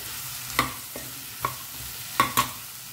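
Fagla bhaji (spiny gourd) being mixed and fried in a pan, with a soft steady sizzle broken by a handful of sharp scraping clicks from the spoon against the pan, close and fairly quiet with no talk.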